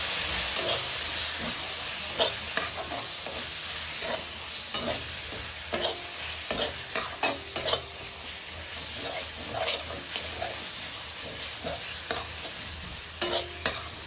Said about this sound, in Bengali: সব কিছু এখন ভালো করে মিক্স করে নেব।